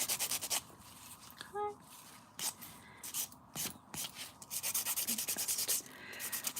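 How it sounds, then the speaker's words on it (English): A nail buffer rubbing across fingernails during a dip-powder manicure, giving repeated short scratchy strokes in quick rhythmic bursts, close and fairly soft, with brief pauses between passes. "Buffing, buffing, buffing."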